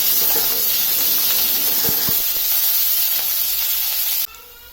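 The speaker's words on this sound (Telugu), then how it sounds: "ఇప్పుడు అదే ఆయిల్లో 2 ఉల్లిపాయలు కట్ చేసుకున్న 2 ఉల్లిపాయలు అలాగే 4 పచ్చిమిర్చి, ఒక రెబ్బ కరివేపాకు వేసి వేయించుకోవాలి." Onions, green chillies and curry leaves frying in oil for an egg and taro curry give a loud, steady sizzling hiss that cuts off abruptly near the end.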